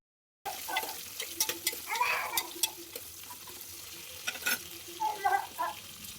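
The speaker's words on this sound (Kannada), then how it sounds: "ಇದು ಅಷ್ಟೇ ಗೋಲ್ಡನ್ ಕಲರ್ ಬರೋವರೆಗೂ ಚೆನ್ನಾಗಿ ಫ್ರೈ ಮಾಡ್ಕೊಬೇಕು." Sliced onions frying in a pan until golden, a close crackling sizzle broken by repeated sharp stirring clicks and scrapes, with no voice.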